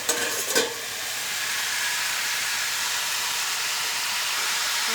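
Cauliflower stalk chorchori cooks in a pan, a steady loud hissing sizzle just after the lid comes off, with a couple of brief clatters at the very start and no voices.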